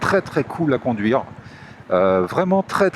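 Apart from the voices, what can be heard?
No everyday noise stands out behind the speech.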